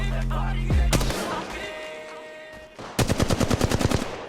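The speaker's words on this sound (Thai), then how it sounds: "ศัตรูกำลังยิงใส่ฉัน" Enemy gunfire in the mobile shooter game Apex Legends Mobile: a loud burst at the start, then a rapid, evenly spaced volley of automatic shots near the end, with game sound effects filling the gap between.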